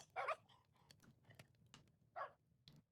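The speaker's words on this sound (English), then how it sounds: "So many little barks." Small dogs give a few short, faint barks, two sharper yips standing out among scattered quieter sounds and light clicks, with no one speaking.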